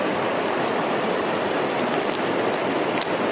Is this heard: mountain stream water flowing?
yes